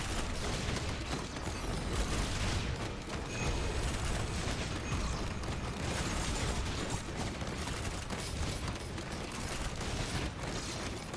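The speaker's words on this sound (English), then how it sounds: "Alright, now I got my turrets hitting them." Automated turrets fire nonstop at enemies during a tough boss fight in Risk of Rain 2, a dense, loud mechanical barrage of rapid shots with booming impacts throughout.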